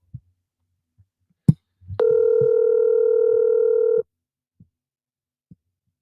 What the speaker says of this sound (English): The phone went off because I have three of them on the line at the same time.